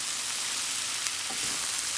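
Vegetables for a vegetarian biryani sizzle in a pan while being stirred, giving a steady, fairly quiet crackling hiss with a few soft scrapes partway through.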